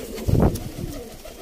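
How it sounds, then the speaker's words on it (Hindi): A Punjabi Malwai pigeon gives a low, soft coo that swells briefly, heard close over a murky background hum. "बहुत ही जबरदस्त कबूतर आ चुके हैं।"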